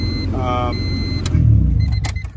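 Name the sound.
Honda Civic engine starting without clutch pressed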